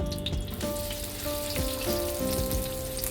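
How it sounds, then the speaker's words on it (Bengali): Vegetables and onion sizzle in hot oil in a pan, a dense crackling spatter running steadily throughout with a few faint tonal ringing notes in the background and no talking. "তেলেই আমি এবারে সবজিটা ভাজবো। আর তেল দিলাম না, একটা পেঁয়াজ দিয়ে দিলাম।"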